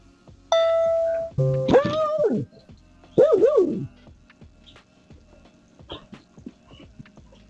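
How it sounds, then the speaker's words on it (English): A doorbell chime rings out, accidentally triggered by a dog, followed by a few short, whining yelps from the dog nearby, then quieter shuffling. "You can see the moment this dog feels dumb after accidentally ringing the doorbell."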